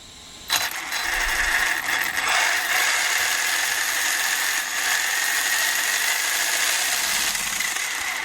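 An electric RC car motor on a 2S LiPo smart battery whines loudly as the throttle is held open, a sustained high-pitched buzz kicking in after a brief pause and running steadily with slight wavering, no talk.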